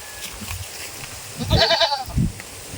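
A greedy goat feeding on ipil-ipil leaves lets out one loud, wavering bleat at close range, followed by soft chewing and rustling sounds.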